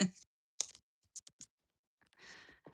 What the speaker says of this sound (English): Watch me just shuffle around here.